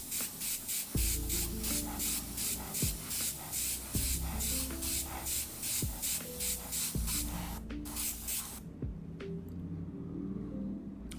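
An airbrush sprays paint over a hairspray layer for a chipping effect, a steady close hiss running in repeated bursts with faint clicks of the trigger between them, and no talking.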